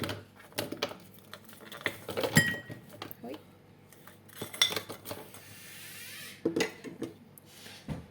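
Frozen banana pieces and strawberries drop into a bowl with a series of hard clinks and knocks, close and fairly quiet, separated by short pauses.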